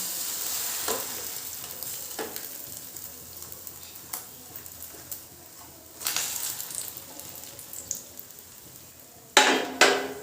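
Fish roe hits hot white oil on a tawa, a steady crackling sizzle with scattered scrapes and clinks of spreading and stirring, ending in a loud sudden burst of spitting near the end.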